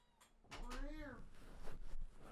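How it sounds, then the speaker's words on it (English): A house cat meows in a room, giving one drawn-out, wavering meow followed by softer vocal sounds, fairly close but quiet. "The cat agrees. You're meowing."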